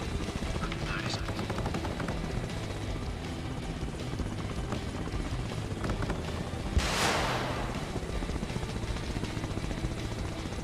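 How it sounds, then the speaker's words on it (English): Helicopters in a combat scene from the Arma military video game, a steady rotor drone with gunfire-like crackle throughout and one brief loud whoosh passing close midway. "Look at those two helicopters go at it."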